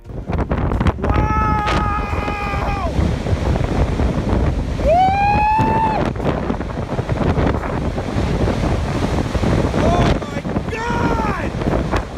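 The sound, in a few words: wind of a newly forming tornado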